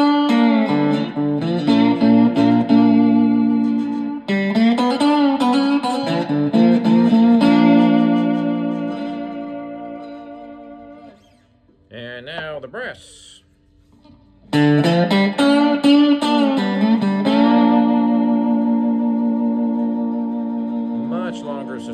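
Electric guitar played with a glass slide, sustained gliding notes in phrases, a brief pause with a few sliding tones, then more long ringing slide notes.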